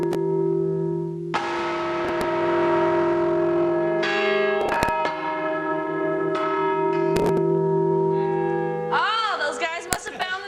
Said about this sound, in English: Oh, those guys must have found the bells.